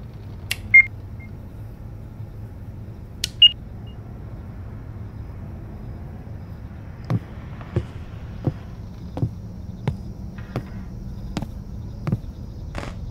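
Phone number being dialed in the video game Summer of '58: a pair of faint electronic beeps, then a quiet series of evenly spaced short clicks over a low background hum.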